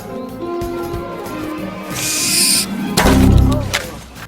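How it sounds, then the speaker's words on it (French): A Harry Potter owl delivering mail gives a short hooting call amid a rushing, fluttering swell, loud and close, with no voices. "Non David, les chouettes apportent juste du courrier, elles ne te feront pas caca dessus"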